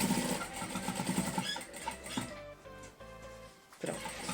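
A sewing machine stitches through foam and fabric lining for a casserole dish carrier, whirring close up in a couple of uneven runs that slow and briefly pause near the end.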